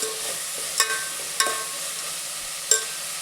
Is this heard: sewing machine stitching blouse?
no